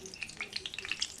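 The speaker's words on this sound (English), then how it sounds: "And here's my pork schnitzel. And take it straight to the pot, to the pan." Breaded pork schnitzel frying in a pan, a quiet steady sizzle with quick bright spatters and crackles popping in an irregular patter.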